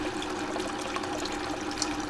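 Water rushes steadily through a gold drop trap sluice, a continuous close wash and trickle with no pauses or voices.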